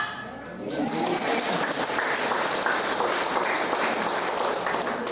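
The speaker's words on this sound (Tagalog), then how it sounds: "Nagkakaisa po ba ang pumalakpak?" A church congregation claps together during worship, a dense steady wash of hands that starts after a short pause and holds at even loudness for several seconds, with voices underneath.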